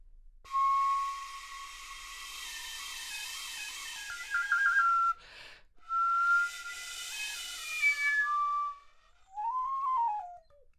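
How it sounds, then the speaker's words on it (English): A squeaky pink fairy princess plastic recorder plays several shrill, wavering whistled phrases with breaks between them, each note breathy and piercing, close and fairly loud. "This is by far the worst recorder I've ever tried in my life."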